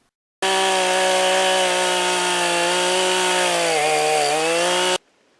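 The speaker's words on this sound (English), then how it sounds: "Unsticking chainsaws while cutting large trees." A chainsaw runs steadily at high revs while cutting into a large tree, loud and close, with a slight drop in pitch as it bogs down, then stops abruptly.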